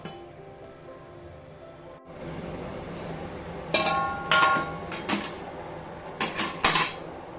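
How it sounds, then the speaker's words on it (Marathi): Prawn masala stirred in a metal pan before the lid goes back on: quiet scraping, then several sharp metallic clanks and knocks in two bursts, close by and with no talking. "थोडंसं हलवून घेते मी आणि परत एकदा हे झाकण ठेवूया।"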